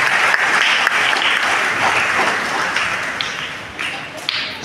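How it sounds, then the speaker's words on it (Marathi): Audience applause at a First Holy Communion ceremony at a church, loud sustained clapping from a crowd filling the whole stretch with a few sharper claps standing out. "तर आपण टाळ्या वाजवून मुलांच्या आणि शिक्षकांच्या"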